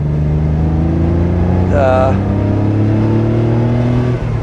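A 1989 Porsche 911 Speedster engine running close by, its steady low drone rising slightly as the car pulls away, with a short voice briefly heard over it.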